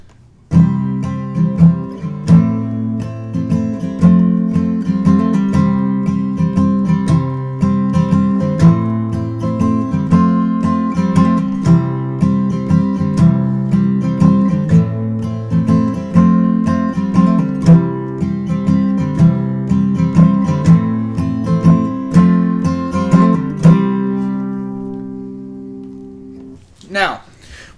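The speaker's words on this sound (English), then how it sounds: "now, what you heard was just my strumming." Acoustic guitar strumming alone in a steady rhythm for about twenty-five seconds, close and full, ending with the chord ringing out and a brief noise at the end.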